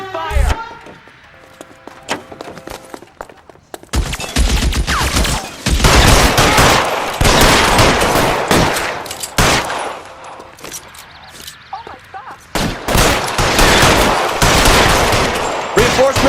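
Heavy gunfire from a shootout in the game LA Noire: loud, dense bursts of rapid shots in several long volleys with brief lulls, briefly under a voice.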